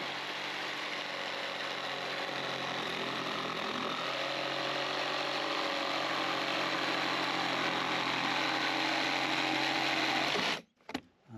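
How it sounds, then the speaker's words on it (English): A cordless reciprocating saw from Aldi's Ferrex range cuts through wood for a wood-burning stove, giving a steady, loud, buzzing mechanical drone for about ten seconds before it stops abruptly. "you can get away with it if you hold the brace, secure it, and start cutting"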